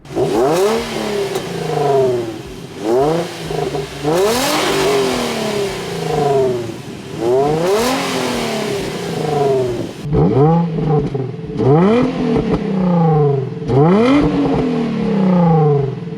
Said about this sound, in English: I can get some exhaust clips so I can show y'all, like, you know, the stock